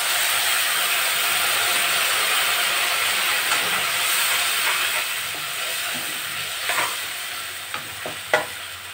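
Tamarind juice poured into a hot pan sizzles and hisses steadily and loudly, with a few sharper spatters and stirring scrapes toward the end, no voices.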